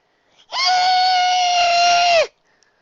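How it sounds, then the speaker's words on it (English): A single piercing, sustained scream lasting about two seconds, loud and close, high-pitched and harsh, cutting off abruptly into silence. "a horrid, blood-curdling scream stopped her"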